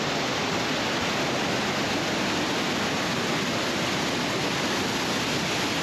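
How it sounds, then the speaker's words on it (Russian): A dense, constant roar of Iguazu Falls in the Argentine jungle fills the whole clip, loud and close, with no pauses or changes. "в нескольких метрах просто находится тот самый водопад"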